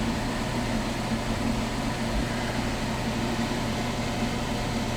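A waste oil burner runs steadily, blowing hot air with a continuous broadband roar over a low mechanical hum, close and unbroken throughout.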